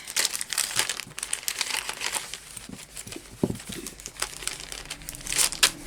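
A little plastic sack holding a basic wax craft kit crinkles and crumples close by as it is handled and opened, with irregular rustling bursts throughout and no talking.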